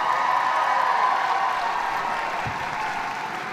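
Graduates at a university convocation ceremony applaud, a steady wash of clapping from a large indoor crowd that stays fairly even and slowly fades over a few seconds.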